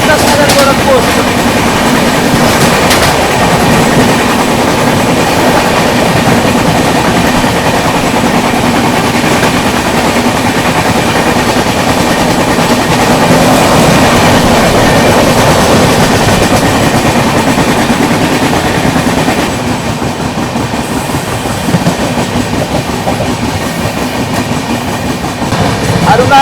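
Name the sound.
Izzatnagar Gorakhpur Express train overtaking on parallel track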